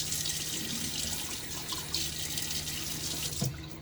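A bathroom tap runs water into a sink before a shave, a steady close hiss and splash that continues throughout, with a faint clunk near the end and no talking.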